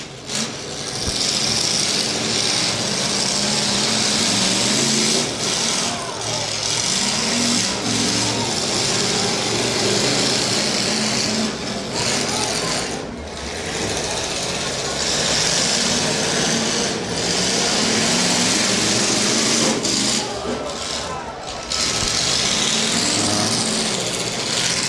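Pickup trucks in a Portage County, Ohio demolition derby, engines roaring continuously at high revs with occasional thuds of bodies colliding, under a steady outdoor crowd wash.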